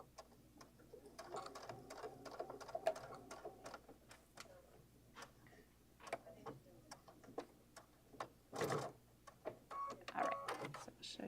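A sewing machine stitching a seam on a messenger bag, heard as quiet, intermittent mechanical ticking bursts with pauses, faint and under occasional talk in a room.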